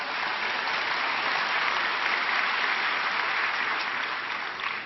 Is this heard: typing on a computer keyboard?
no